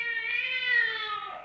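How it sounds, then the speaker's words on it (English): A single drawn-out cat meow in a 1951 radio drama, clear and close, rising then sliding down in pitch over about a second and a half. "Gray Whiskers is my cat"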